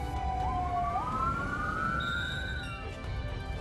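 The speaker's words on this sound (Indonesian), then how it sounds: "Beberapa ambulans juga didatangkan ke lokasi." An ambulance siren sounds at the scene of an incident with burn injuries, a single rising and wavering wail that sweeps upward and holds before fading, moderately distant over steady background noise.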